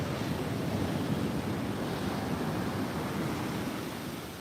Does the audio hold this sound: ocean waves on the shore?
yes